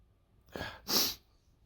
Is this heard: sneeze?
yes